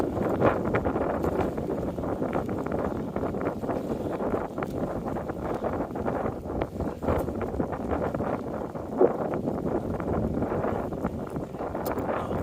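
Gusting wind buffets the microphone outdoors on a railroad bridge, a steady loud rumbling roar through the whole stretch with a few sharper gusts.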